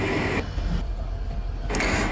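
A train moves slowly near the Padma bridge, stopping and starting, with a steady low rumble and rattle of the carriages throughout and a brief brighter burst near the end.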